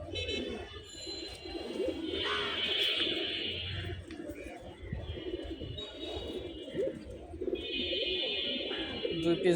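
Low, rolling pigeon coos fill a crowded loft of Giribaz, Gorra and Army pigeons, mixed with higher bird chirps and someone talking close by.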